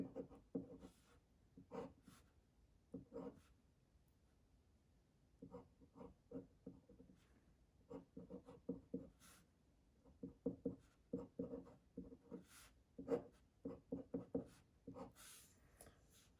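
A pen draws a chemistry diagram with quiet, close scratching strokes in short irregular bursts separated by brief pauses, faint in a still room.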